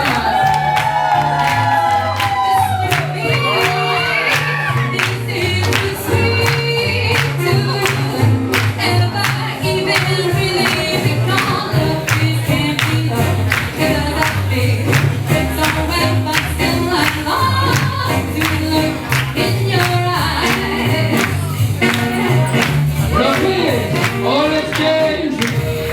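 An audience at a Lindy Hop swing dance event claps steadily and cheers, with scattered whoops rising over the continuous applause.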